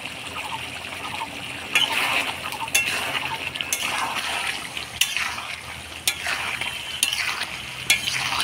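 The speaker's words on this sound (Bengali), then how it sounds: "এবার গরম মশলার গুঁড়া দিয়ে নাড়াচাড়া করে নামাই দিব" A spoon stirs chicken curry in a pot after garam masala powder goes in, with scraping strokes and clinks at a regular pace over a constant frying sizzle, close by and without talking.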